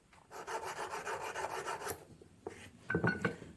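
A hand scraper draws across a babbitt bearing from a McCormick Deering 3 hp engine, making a close rasping scrape of repeated short strokes for about two seconds, then a pause and a few more scrapes.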